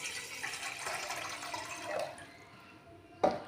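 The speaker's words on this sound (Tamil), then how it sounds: "600 மில்லி தண்ணி ஊற்றிருக்கேன் நான்" Water, about 600 millilitres, poured into a pot on the stove for a homemade soup, a steady splashing fill fading after two seconds, then a brief clatter near the end.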